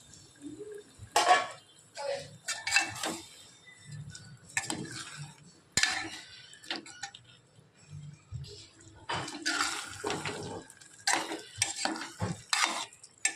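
Cooked jackfruit is stirred into a pot of tomato-onion gravy, a metal spoon scraping and clinking against the vessel in irregular bursts, with a faint sizzle in the background.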